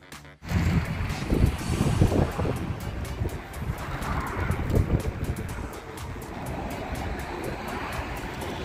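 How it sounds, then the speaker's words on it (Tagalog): Strong wind buffeting the microphone at an outdoor birthday and baptismal party, loud rumbling gusts that swell and ease for several seconds, with faint background voices under the roar. "Lakas ng hangin."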